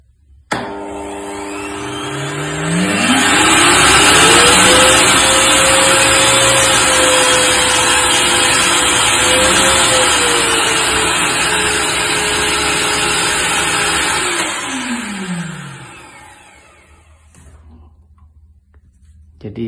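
A RYU RVC15L wet and dry vacuum cleaner switches on with a rising whine, runs steadily and loudly for about fourteen seconds, then winds down and falls quiet near the end.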